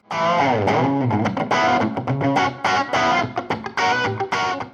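A heavily distorted electric guitar plays loud, gritty chords and riffs in a driving rhythm with brief choppy breaks, no voices.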